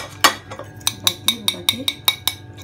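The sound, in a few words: mixing a mixture in a bowl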